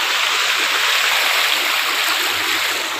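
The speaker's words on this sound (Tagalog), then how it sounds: "So, may tubig na pala dito." Steady, loud rush of stream water flowing along a river, a continuous broad wash of sound with no breaks, close by and filling the scene without voices.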